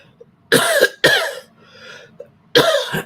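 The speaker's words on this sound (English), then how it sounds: "Why am I coughing?" Three harsh, close coughs: two in quick succession, a short pause, then a third burst, each loud and chesty.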